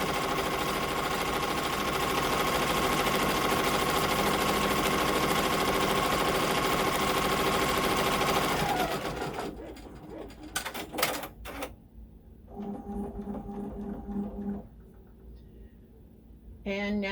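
Embroidery machine stitching with neon yellow thread: a loud, steady rapid mechanical whirring for about nine seconds, then stopping into softer clicks and whirs as a person talks.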